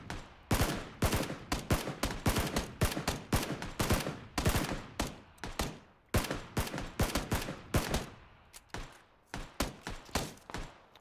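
Rapid bursts of gunfire in the battle royale game PUBG, dense fusillades of close, loud shots in uneven volleys with brief gaps, no talk over them.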